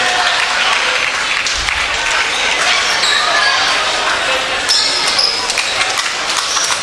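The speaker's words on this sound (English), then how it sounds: "quite a buzz in the crowd here after that dunk" A high school basketball crowd roars after a dunk in a Staley Falcons versus Grandview Bulldogs game, a loud, sustained buzz of cheering and clapping filling the gym, with faint squeaks and bounces beneath.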